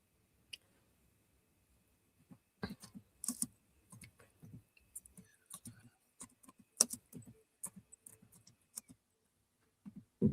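Sparse, quiet clicks of typing on a computer keyboard, irregular taps and short clusters over near silence.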